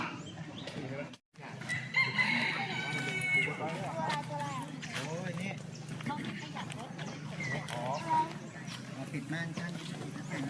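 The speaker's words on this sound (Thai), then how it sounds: "เสียงไก่ป่า" Wild junglefowl crowing at a national park campground near a waterfall in the evening, with several crows and clucks at moderate distance, mixed with people talking and other outdoor sounds.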